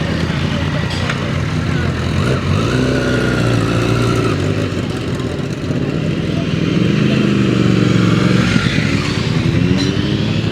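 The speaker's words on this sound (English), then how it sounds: "I'm getting distracted by the motorcycle." A motorcycle engine rumbles steadily nearby on an open road, its pitch rising and falling as it revs and passes, with a person talking over the noise throughout.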